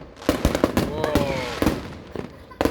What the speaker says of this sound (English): Man, these guys got some fireworks, man.